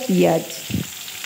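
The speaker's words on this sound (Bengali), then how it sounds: "পেঁয়াজটা নেড়ে চুড়ে আমি এবার একটু ভাজা ভাজা করে নেব" Onion, bitter gourd and eggplant frying together in a pan, a short loud burst of sizzling and stirring near the start, then a brief scrape and a quieter fading sizzle.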